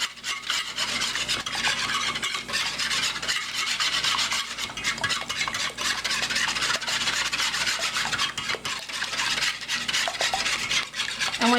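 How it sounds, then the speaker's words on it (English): A wire whisk beats ingredients for eggplant parmesan in a bowl, a continuous fast scraping and rattling of metal against the bowl that carries on steadily throughout, close up and with no talk. "The wire whisk is just kind of faster."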